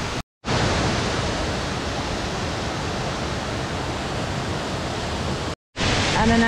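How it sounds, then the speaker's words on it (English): Steady, loud rushing water roars continuously in the New Zealand backcountry, broken by two brief silent gaps, with no voices. "That's a lot of water."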